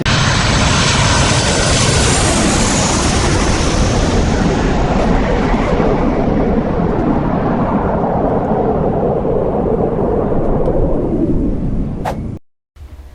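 Loud, steady roar of aircraft engines at Tulsa International Airport, a broad continuous rumble that holds for about twelve seconds before cutting off abruptly.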